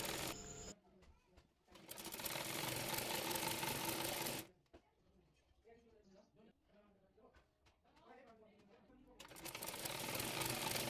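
A close sewing machine runs in two loud steady bursts stitching a blouse neck strip onto the back panel fabric, with a quieter spoken stretch between them before the motor starts again.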